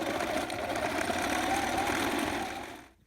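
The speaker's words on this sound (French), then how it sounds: "Après les coussinets, vous allez coudre l'intérieur des oreilles" A sewing machine stitching fabric for the inner part of cat ears on a cat-shaped draft stopper, running in a steady rapid whir close by before stopping abruptly at the end.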